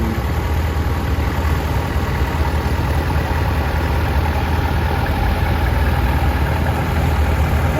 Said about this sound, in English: It's a 900 Ford on propane.